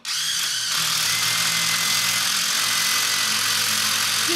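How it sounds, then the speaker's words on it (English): A compact brushless impact driver, a Dewalt Atomic or Milwaukee, hammers continuously after a brief start, giving a loud, dense, rapid rattle close by that holds steady for several seconds. "Just listen to how quick my hammering is"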